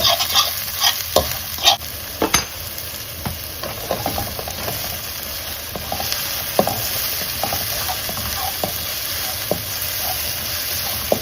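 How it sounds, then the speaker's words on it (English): Scotch bonnet pepper sautéing in a worn metal pot, a continuous crackling sizzle broken by sharp metal utensil scrapes and taps against the pot, fairly loud and close with no talk. "my scotch bonnet pepper. Saute those."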